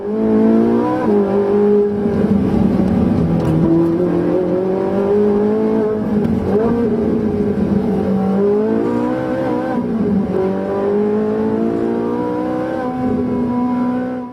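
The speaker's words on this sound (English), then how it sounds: "Great traction coming out of the corner and up through the gears down this straight." A Ferrari 458 sports car engine accelerating hard through several gears out of a corner on the road, the pitch climbing and dropping at each shift, loud and close throughout.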